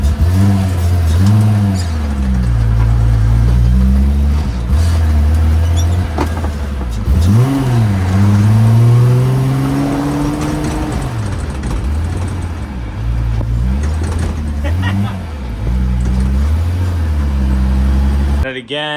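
An MK1 Volkswagen Rabbit engine running close by, idling with several rising revs and drops in a throaty drone, while someone talks over it.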